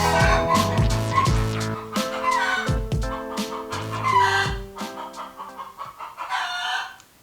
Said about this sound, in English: Seriously, chicken?